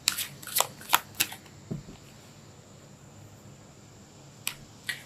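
Tarot cards are shuffled in quick, crisp bursts of riffling and flicks, several short clusters then a pause before two more, close and fairly quiet, with no talking.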